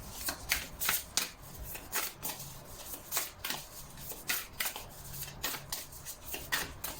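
Tarot cards are shuffled for a reading in quick, papery riffles and soft slaps, with a steady rhythm, close and fairly quiet, and no one speaking.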